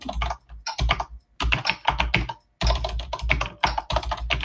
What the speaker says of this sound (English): I'm sure you can hear from the amount of backspacing that I'm doing that there's a lot of things to fix.